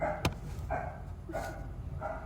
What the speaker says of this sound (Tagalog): Yung aso pa sa labas talaga.